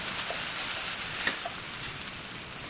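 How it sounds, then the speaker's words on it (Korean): Cooked rice is stir-fried in a pan for a mushroom cream risotto, giving a brief even hiss of sizzling with a couple of faint taps, close and steady. "밥을 넣고 볶음밥 하는 것처럼 달달 볶아주세요."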